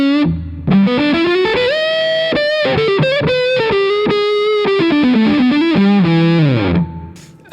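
An electric guitar plays through a Crazy Tube Circuits Motherload distortion pedal, producing thick, saturated tones in a sliding, bending lead line of sustained notes and quick rhythmic stabs, loud and alone before fading at the end.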